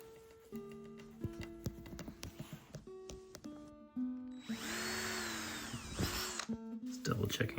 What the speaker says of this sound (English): Just double checking I got the right size drill bit here.